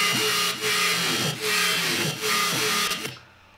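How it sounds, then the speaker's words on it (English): A harsh, gritty dubstep screech bass synth repeats in pulsing phrases, loud and abrasive with a metallic edge, before cutting off abruptly at the end. "That's a typical screech bass."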